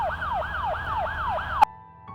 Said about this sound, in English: An ambulance siren, 120 decibels.